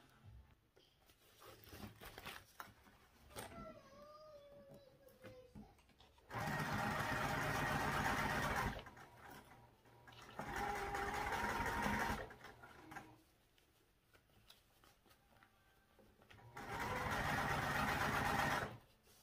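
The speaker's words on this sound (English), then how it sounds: "I'm going to sew the top of it to that little lip" A sewing machine stitches a backpack in three separate loud, steady runs of rapid whirring, with quieter pauses between them.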